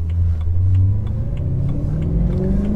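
A BMW E92 M3 fitted with American Racing headers pulls hard under acceleration, its engine note a loud, close, steadily rising drone with a rumbling low end and no talk over it.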